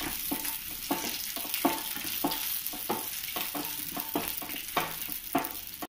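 Rice roasting in a pan for Palakkad-style beef biryani, a constant hissing sizzle broken by regular scraping stirs, close and fairly loud with no speech.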